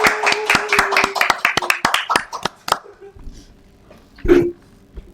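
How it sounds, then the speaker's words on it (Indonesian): A few people clapping at a children's podcast recording, a quick run of sharp, close, separate claps lasting under three seconds, then near quiet with a brief voice. "Beri tepukan yang gemuruh."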